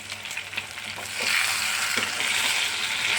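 White eggplant frying in a pan with oil, a close, continuous sizzle that swells louder after a second and then holds steady, with faint clicks and crackles underneath and no voices.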